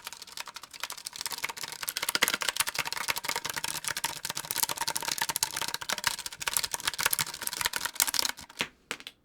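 Rapid, close clacking of keys rings out from a custom-built mechanical keyboard, a dense, continuous rattle of keystrokes that breaks into a few sparse taps at the end.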